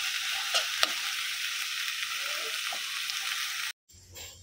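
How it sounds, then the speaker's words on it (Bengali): Okra (bhindi) fries in a pan with an even, close sizzling hiss and a couple of sharp stirring clicks. The sound cuts off abruptly near the end. "দেখতেই তো পাইছেন ভেন্ডি ভাজি করতেছি"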